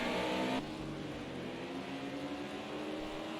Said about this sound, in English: You just heard the revs drop